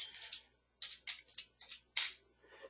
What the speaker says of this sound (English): I'm going to add report if I can type right